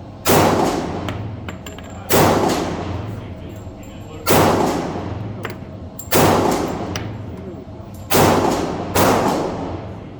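A Girsan 1911 Negotiator .45 ACP pistol fires at a shooting range, with six loud, sharp shots spaced a second or two apart and each trailing into a decaying echo, while a voice speaks faintly between them.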